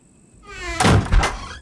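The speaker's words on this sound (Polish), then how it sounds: "No i proszę, nas niedźwiedź tu zaczął prać." A bear banging on a door in the video game The Infected: two heavy, booming thuds land in quick succession, loud and close, after a short rising hum.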